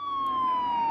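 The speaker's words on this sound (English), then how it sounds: "There's the sirens there." Police siren in Batman: The Telltale Series, a single steady wailing tone gliding slowly downward, clear and fairly close for about a second over a faint background hum.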